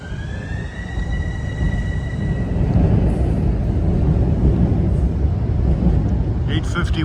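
An approaching commuter train sounds its horn at Harlem 125 station on a freezing night, a sustained multi-tone blast heard at a distance over a heavy, steady rumble of rail and station noise that continues after the horn stops.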